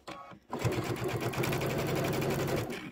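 Domestic sewing machine stitching quilt pieces together, a steady rapid mechanical rattle running continuously after a brief quiet start, close and fairly loud with no talk over it.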